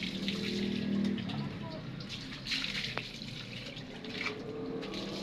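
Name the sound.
water while bathing a pet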